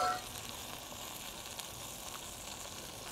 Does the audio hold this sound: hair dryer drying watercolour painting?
no